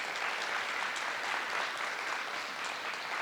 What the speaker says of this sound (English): now we give them a big round of applause